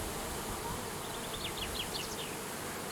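A swarm of honeybees scattered across the ground buzzes steadily and fairly close, with individual bees whining past in brief rising passes above the constant hum.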